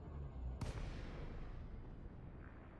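Rapid multi-cannon fire from a spaceship in Elite Dangerous, a sharp burst near the start followed by a dense, continuous rumbling barrage that holds steady to the end.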